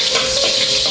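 Garlic sizzles and spits in a hot pan while being stirred, a steady close frying hiss with no pauses.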